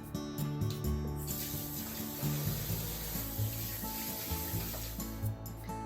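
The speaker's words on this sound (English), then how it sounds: "chicken after you rinse off the sugar and salt." Chicken skin and chicken pieces are rinsed of salt and sugar under running water, a steady watery rubbing and splashing that runs throughout with no talking.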